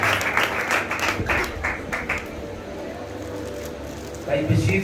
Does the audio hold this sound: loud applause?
yes